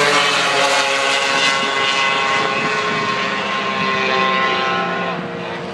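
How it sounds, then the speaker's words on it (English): Snowmobiles drag racing down an asphalt strip, a loud high-revving engine whine that dominates throughout and fades slightly as the machines pull away at the end. "Two of the real veterans of this asphalt snowmobile racing."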